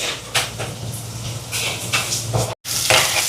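Onions and two green chillies with cumin sautéing in hot oil, a steady close sizzle with scattered stirring scrapes and one brief break in the sound.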